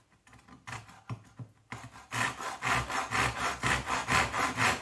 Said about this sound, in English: I'm going to try and cross cut the timber